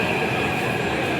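A metro train in motion gives a steady, close rumble and rolling rail noise that stays continuous throughout, with no talking.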